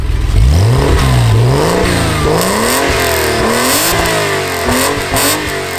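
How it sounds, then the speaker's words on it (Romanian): A Porsche fitted with an aftermarket sport exhaust muffler revs hard and loud close by, the engine note climbing and falling through several rising sweeps with no one talking. "Am pus o tobă sport."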